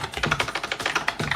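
Rapid keystrokes on a computer keyboard as a user ID is entered, a quick run of close, crisp taps with no voices.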